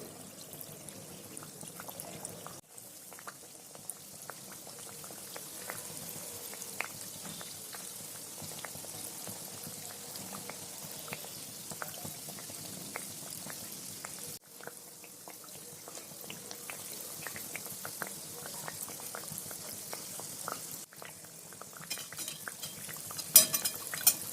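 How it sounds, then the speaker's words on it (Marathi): Kachori deep-fry slowly in oil over a low flame, a soft, continuous bubbling sizzle with scattered small pops and occasional light utensil clinks, fairly quiet throughout. "कचोरी अशीच लो फ्लेमवरती हळूहळू तळू द्यायची, म्हणजे ती खुशखुशीत होईल"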